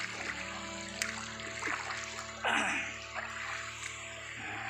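Water from a natural spring-fed river flows and trickles nearby with soft splashes, a steady wash of sound, with a brief louder splash midway.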